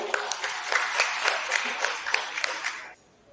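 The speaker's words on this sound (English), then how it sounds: "Let's give the Lord a big clap offering." A church congregation gives a clap offering, with steady, lively applause from many hands and rhythmic clapping throughout that stops abruptly near the end.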